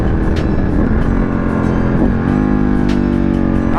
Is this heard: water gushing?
no